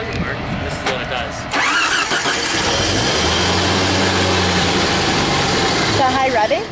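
A Jeep Comanche engine cranks with a rapid rhythmic churn, then catches and settles into a steady idle, close by, with brief talk at the start and end.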